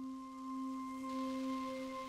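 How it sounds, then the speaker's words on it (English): A sustained synth chord from a ROLI MPE synth hums with steady tones while a soft, crackly hiss lingers and fades in the background. "I've got that crackly sound drifting away"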